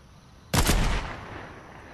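A single loud gunshot blast in Fortnite, sharp and close, with a fading reverberant tail lasting about a second.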